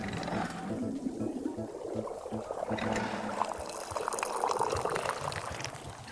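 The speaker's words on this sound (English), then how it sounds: "Yes, I'm getting good at the perfect pour." Tea pours into a cup in the video game Wanderstop, a continuous liquid stream with soft splashing that lasts several seconds, moderately loud, with no talking over it.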